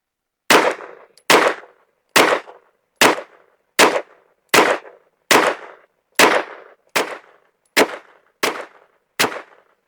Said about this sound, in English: let's shoot another 10-shot group with the Winchester White Boxes